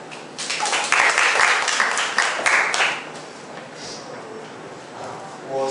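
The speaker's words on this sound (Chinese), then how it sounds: "好，我们掌声欢迎培养" An audience at a Kaohsiung community self-introduction meetup breaks into a burst of dense, close clapping that welcomes the next speaker, then fades after about three seconds into quiet room sound with faint voices.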